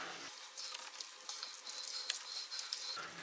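A cornstarch slurry being stirred into a pan of stir-fried pork and vegetables, a quiet soft sizzle with scraping and sloshing stirring sounds close by, no voices.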